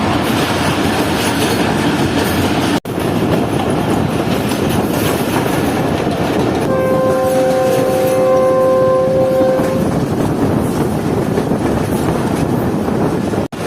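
Fareed Express passenger train braking on approach to Lodhran Junction: a loud, steady roar of rolling wheels and wind, with a bright squealing brake whine rising in the middle and then fading while the rumble carries on.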